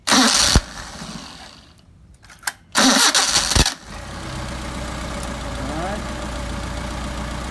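A Solex moped engine catches after a couple of loud cranking bursts, then settles into a steady, buzzing idle around 700 rpm, close by and fairly loud.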